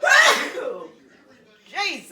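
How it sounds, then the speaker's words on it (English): A single loud, close sneeze bursts out, followed after a short pause by a brief spoken exclamation. "Oh, that pepper may make me want to sneeze."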